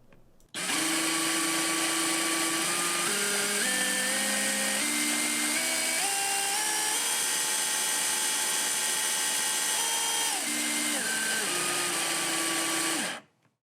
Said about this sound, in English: Another thing I really like about this saw is that it has a variable speed trigger. Here's a test. Listen closely.